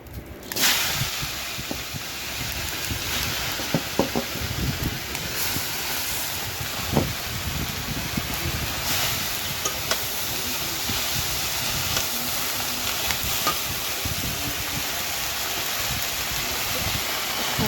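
Pumpkin leaves fry in a hot pan with a steady, loud hiss and crackle that carries on without a break, broken by a few sharper pops.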